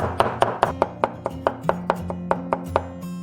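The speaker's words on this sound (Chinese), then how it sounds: "然后切成蒜末" A knife chops crushed garlic into mince on a cutting board, about a dozen crisp, close strikes in a quick, steady rhythm with no talk.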